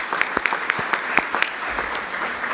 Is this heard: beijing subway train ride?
no